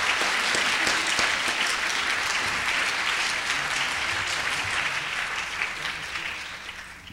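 An audience claps steadily at a book presentation on mergers and acquisitions in Mexico. The dense, sustained applause fills the room and tapers slightly toward the end, with no one talking over it.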